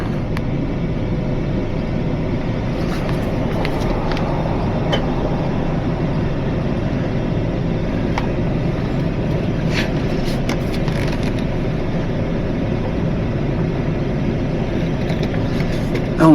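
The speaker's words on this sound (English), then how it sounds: "And now I'll just winch myself up." Electric winch pulling a vehicle up onto a recovery truck, a loud continuous grinding motor drone with steady mechanical rumble and occasional clanks, sustained throughout with no pauses.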